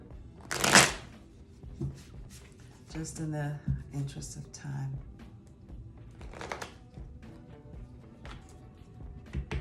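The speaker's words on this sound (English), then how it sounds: "let me shuffle up, and then I'm gonna pull from the top" Tarot cards are riffled and shuffled in several quick bursts of crisp flapping, close up, while a person speaks softly.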